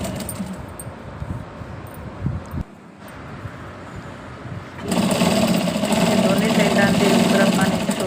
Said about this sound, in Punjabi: ਹੁਣ ਆਪਾਂ ਨੇ ਸੂਟ ਦੀ ਫਿਟਿੰਗ ਜਿਹੜੀ ਸਿਲਾਈ ਹੈ ਉਹ ਲਗਾ ਲੈਣੀ ਹੈ